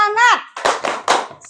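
A voice rings out, then three sharp group hand claps follow in a quick rhythm, part of the 'tepuk semangat' clap chant led by a teacher in a classroom.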